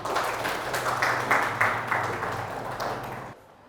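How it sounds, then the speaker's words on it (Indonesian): Classroom applause from a group of students, a brief burst of scattered clapping that fades out after a few seconds. "Berikan tepuk tangan untuk Najib."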